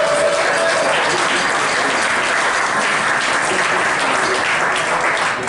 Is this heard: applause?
yes